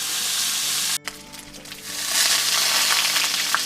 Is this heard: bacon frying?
yes